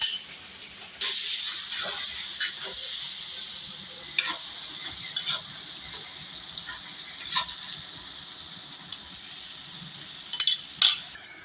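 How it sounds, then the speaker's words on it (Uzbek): Uzbek plov frying in a pot with devzira rice while being stirred, a soft steady sizzle punctuated by sharp metallic scrapes at irregular intervals, louder clatter near the end. "Aralashtirib turiladi damba-damba."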